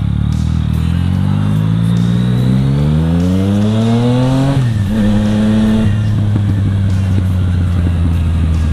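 Yamaha MT-09 three-cylinder crossplane motorcycle engine revving hard, rising steadily in pitch then dropping back and holding a lower throttle, loud and close with no talk.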